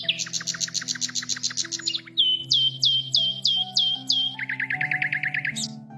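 Small birds chirping outdoors in winter, a steady run of rapid, bright tweets and repeated call notes, loud and close, over a soft background music drone.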